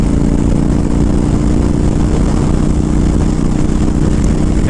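Honda Fury motorcycle engine pulling hard in fifth gear on a freeway, a loud continuous low drone with steady wind roar throughout, no pauses.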